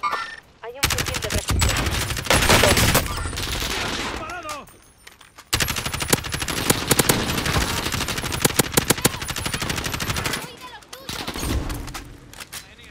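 Sustained automatic gunfire in Call of Duty Modern Warfare: long, dense bursts of rapid shots, loud and close, broken by short pauses, with a player's voice speaking briefly over the firing.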